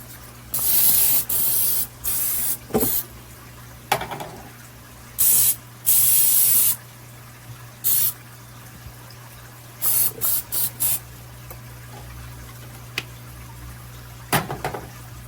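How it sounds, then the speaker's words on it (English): Repeated short hissing bursts of cooking spray onto a mixer, some quick and some held for a second or more, close by with quiet gaps between. "let me spray my little mixer like I said I was going to do"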